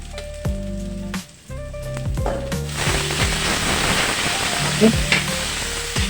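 Boiled, softened banana blossom hits a hot pan and breaks into a broad, steady sizzle partway through, close up and loud, with a brief word spoken first and music playing underneath.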